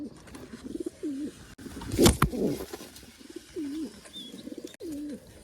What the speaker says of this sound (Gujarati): કબૂતર આવી ગયું છે અને બચ્ચા પર બેસી પણ ગયું છે